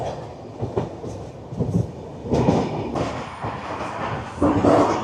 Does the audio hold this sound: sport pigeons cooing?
no